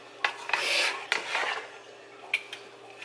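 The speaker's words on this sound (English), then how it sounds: "I'm just gonna stir a bit just to make sure that the garlic is getting on my shrimp" A utensil scrapes and taps intermittently against a pan while garlic butter shrimp is stirred, soft rubbing strokes broken by a few sharp clinks, close and fairly quiet.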